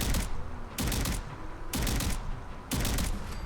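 Riveter gun firing in Fallout 4, four loud, booming shotgun-like blasts spaced about a second apart, each followed by a short rumbling tail, up close and without any voices.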